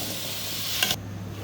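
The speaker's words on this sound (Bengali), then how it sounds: "লাউ দিয়ে ভালো করে কষাতে হবে।" Bottle gourd being stir-fried with spices gives a loud, close sizzling hiss for about a second, which then cuts off abruptly to a quieter hum.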